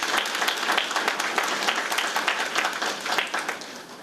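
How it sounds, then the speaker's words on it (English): Audience of faculty at a campus reception applauding students, a full round of clapping that swells and then tapers off toward the end. "So let's applaud our students for that, and applaud yourselves for faculty members."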